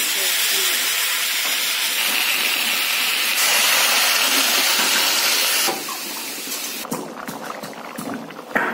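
Food frying in a pan in a home kitchen at night, a dense, loud continuous sizzle that drops in level partway through, followed by some clattering.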